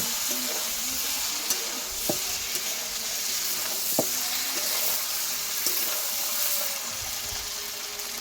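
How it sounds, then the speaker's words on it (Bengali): A pan of meat and potatoes sizzles and hisses steadily as water goes in, with occasional sharp clicks of a utensil against the pan and no talking. "এবার জল দিয়ে দিয়েছি আমি পরিমাণ মতো"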